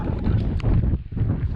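Wind gusts across the microphone beside Lake Bellfield on a wet, blustery day, giving a steady, close, low rumbling buffet that dips briefly before surging again.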